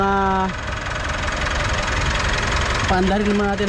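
A 2016 Mitsubishi Montero idles steadily after its alternator and compressor belts are replaced, a loud, even engine hum with a few tonal whines that fade and return, under a voice.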